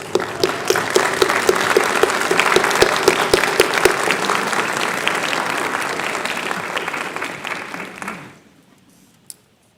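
Graduates at a law school commencement applaud their families, a loud, sustained hall-filling ovation of many hands that holds steady for about eight seconds, then fades out to near silence with one last stray clap.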